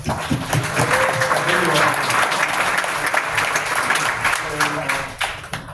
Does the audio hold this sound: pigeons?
no